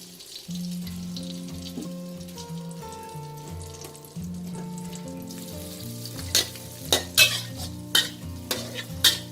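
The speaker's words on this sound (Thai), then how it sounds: "เราจะผัดค่ะจนกว่าความหอมของขิงและกระเทียมออก" Ginger and garlic sizzle as they are stir-fried in melted butter and oil over low heat for a Thai rice dish, over a steady tonal background, with louder scraping stirs bursting in during the final seconds.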